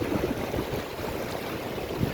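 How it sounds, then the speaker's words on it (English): Floodwater in the Garden Route floods pours into a river with a steady, dense rushing roar. The sound stays close and continuous, with no voices over it. "Look at all that water flowing into the river."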